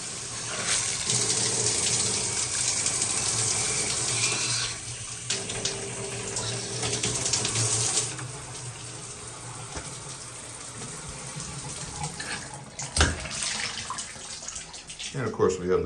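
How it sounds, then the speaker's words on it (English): A massaging shower head in a hotel bathroom at the Hampton Inn & Suites in downtown Baton Rouge runs with a steady, close hiss and spatter of water that shifts in tone as the spray is moved about. "So it's a nicely functioning shower massage up there."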